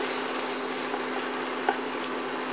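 Spice masala frying in a pan: a steady, even sizzle with a soft hiss that continues without a break, plus a single faint tick partway through.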